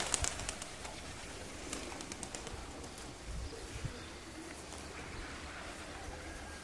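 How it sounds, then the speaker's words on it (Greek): A flock of tumbler pigeons returns overhead in Kozani in February, with bursts of wingbeats and soft cooing over a busy outdoor background, loudest at the start and then steadier. "Έρχονται τα πουλιά."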